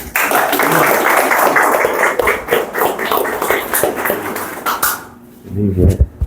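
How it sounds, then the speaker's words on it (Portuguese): Lecture audience breaks into broad applause to welcome a speaker, steady clapping for about five seconds that tapers off, followed by brief voices up close. "Eu queria que vocês recebessem ele com uma salva de palmas aí."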